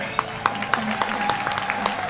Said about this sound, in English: have you all give them a big, rousing round of applause